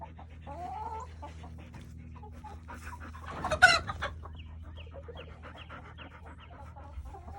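A Black Copper Marans hen gives a few soft, low clucks close by, with a brief louder flurry of scuffling or wing movement midway, over a steady low background hum.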